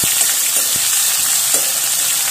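Fennel seeds, asafoetida and long-sliced onion frying in hot oil, a loud, dense, continuous sizzle with faint crackles, no talking.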